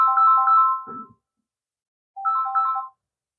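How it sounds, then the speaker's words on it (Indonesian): An iPhone 14 Pro rings with a bright melodic ringtone, two short bursts of chiming tones separated by about a second of silence, close and clear with no talking. "Harusnya berdering nih, ya kan?"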